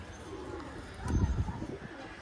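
A pair of chokher payra pigeons at a pigeon shop gives a short, low, throaty coo midway through, against quiet background noise.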